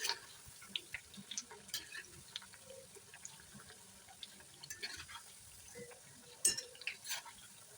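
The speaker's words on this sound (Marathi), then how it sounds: "आपल्या इकडे वड्या तळून होत आहेत" Alu vadi, rolled colocasia leaf slices, deep-fry in oil over medium heat, giving a faint, uneven crackle and bubbling with scattered soft pops, steady and fairly quiet.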